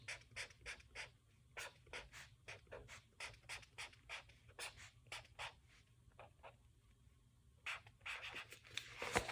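A pen or pencil sketching a picture to show an addition sum, many quick, faint scratching strokes in an uneven rhythm across the page, close and quiet, with a busier cluster of strokes near the end and no talk.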